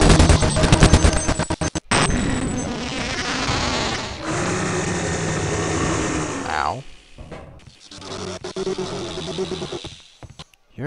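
Rapid bursts of gunfire fired at the Gene Worm's weak spot in Half-Life: Opposing Force, dense and continuous over buzzing creature and game effects, with a brief pause midway.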